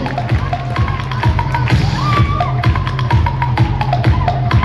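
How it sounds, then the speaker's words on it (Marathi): A crowd at a school prize-giving claps steadily as a student receives a trophy, a dense patter of hands mixed with cheering and scattered shouts. "टाळ्या वाजवायच्या."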